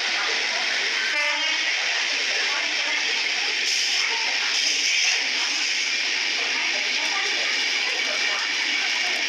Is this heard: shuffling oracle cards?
no